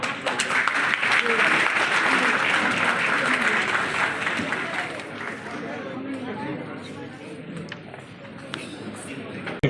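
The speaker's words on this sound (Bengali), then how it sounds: "আরেকবার করতালি হোক" A crowd applauds at the Alipore Zoo 150th anniversary event, dense sustained clapping with crowd chatter mixed in, gradually thinning and fading toward the end.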